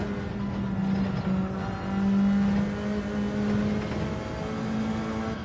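Race car engine in a racing video game, heard from the in-car helmet camera view, droning loudly and continuously as it holds and swells at high revs, with a slight easing and a push back up; no voices.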